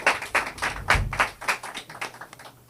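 Sparse, rhythmic clapping from a small group at a breakdancing press conference, about a dozen distinct claps spread evenly over a few seconds, fairly close and with no talking over it.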